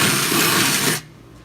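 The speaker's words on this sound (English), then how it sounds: "drill all these big ass holes in it" Power drill boring clearance holes around a Skyline over-fender, a loud steady high whine that cuts off abruptly near the end, leaving quiet.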